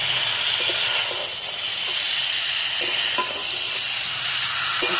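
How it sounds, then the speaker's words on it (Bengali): Fried bhetki fish bones are sautéed with potato and spices in a pan, giving a constant hissing sizzle. A couple of brief knocks from the spatula rise above it. "এবার আমি ভেজে রাখা মাছের কাঁটাগুলো দিয়ে দেবো। দিয়ে আমি আবার ভালোভাবে কষিয়ে নেব।"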